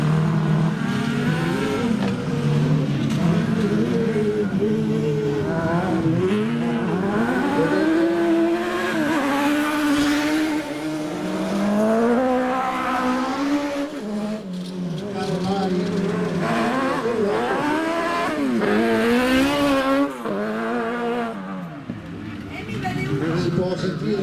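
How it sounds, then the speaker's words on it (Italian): Single-seater race cars in a Trofeo del Nord UISP race rev hard, engines rising and falling in repeated sweeps as the wheels spin and slip on the track, loud and continuous throughout. "Si può sentire anche ascoltando i giri del motore che le vetture vanno via sempre in pattinamento"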